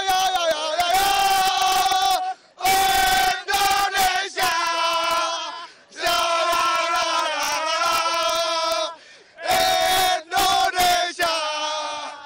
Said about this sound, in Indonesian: Coba yel-yel dulu buat penonton Kompas TV.